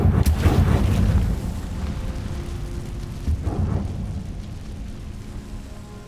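A booming blast from a Confringo fire curse in Hogwarts Legacy, one loud explosive hit at the start rolling into a long rumbling decay, with a second smaller burst partway through.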